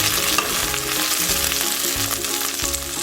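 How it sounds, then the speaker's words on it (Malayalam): Onions and curry leaves fry in a pan for a drumstick thoran, with a loud constant sizzle and rhythmic scraping strokes of a spoon stirring them, close up and with no voice. "നമുക്കൊന്ന് ഇളക്കി കൊടുക്കാം."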